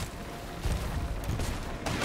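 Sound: ship cannon firing in a video game

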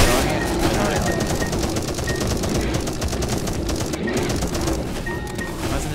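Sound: gunfire in the video game 10 Miles To Safety

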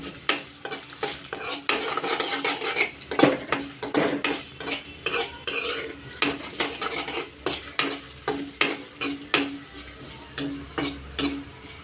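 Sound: dried red chillies frying in oil while stirring

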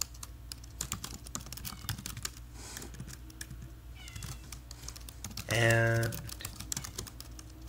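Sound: typing on a computer keyboard while writing PHP code

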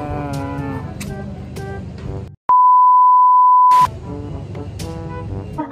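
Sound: cellphone beeping

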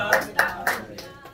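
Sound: audience clapping at scholarship ceremony

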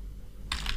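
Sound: typing on a computer keyboard

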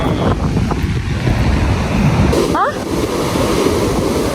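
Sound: ocean waves at a beach

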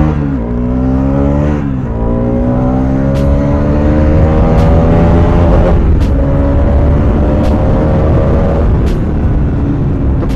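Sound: Bajaj Pulsar RS200 motorcycle accelerating over bump, front wheel lifting

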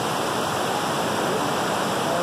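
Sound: Iracema waterfall, large flow of water

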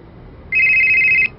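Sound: telephone ringing with incoming call

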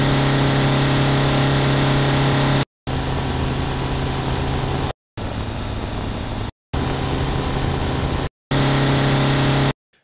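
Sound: car engine recording, high RPM, heavy load loop

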